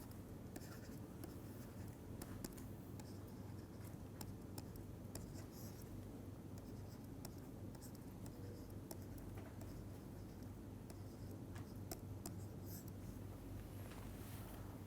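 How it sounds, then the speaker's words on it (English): Equations are written by hand during a physics lecture on plane waves, a faint, continuous scratching of pen or chalk with quick tapping strokes over a low background hum, no talking. "let us go ahead and write it down"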